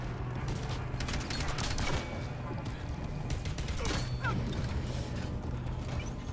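Gunfire in the 2009 Bionic Commando video game, a dense stretch of repeated shots with mechanical clatter over a steady ambient bed, fairly constant in loudness throughout.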